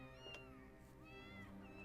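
Several short cat meows from in-game kitties in Final Fantasy 14, wavering and overlapping, set against a steady background music bed, soft and moderately close.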